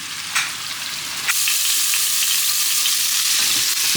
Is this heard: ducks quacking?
no